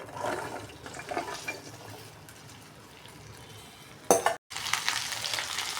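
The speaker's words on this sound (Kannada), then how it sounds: "ಬೆಂಡೆಕಾಯಿ ಹುರ್ಕೊಳ್ಬೇಕು ಫಸ್ಟು ಚೆನ್ನಾಗಿ ಫ್ರೈ ಮಾಡ್ಕೊಳ್ಳೋಣ" Okra (ladies finger) frying in a few spoons of oil in a kadai, a steady broadband sizzle with stirring scrapes, briefly cut by a sharp burst and a moment of silence before the frying resumes.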